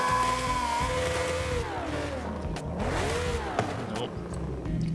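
A Corvette C8 Z06 in Forza Horizon 5, fitted with a swapped engine that sounds broken, revs and rises and falls in pitch, a continuous loud engine note with a brief tire-squeal-like burst.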